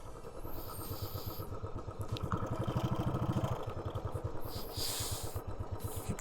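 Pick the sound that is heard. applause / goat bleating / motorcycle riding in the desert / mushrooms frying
motorcycle riding in the desert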